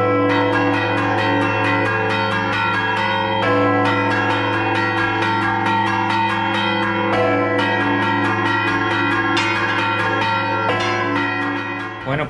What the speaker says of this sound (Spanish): Entonces se da un repique con las campanas que tengo ahora mismo disponibles.